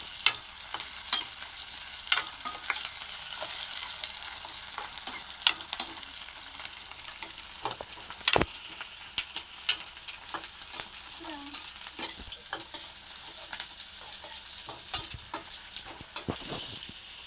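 Onions fry in a pan for a cauliflower gobi masala, a low steady sizzle broken by frequent clicking and scraping strokes of a spatula stirring them.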